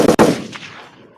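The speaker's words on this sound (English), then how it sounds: "Followed by gunshots" A burst of gunfire with two or three sharp, loud reports in quick succession, followed by a decaying echoing tail.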